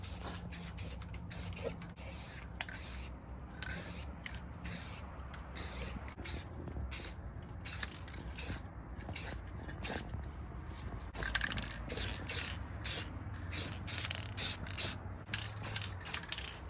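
Second coat of spray paint going onto a G35 coupe part: a long run of short hissing bursts from the spray can, close and steady, with faint mechanical clicks between passes.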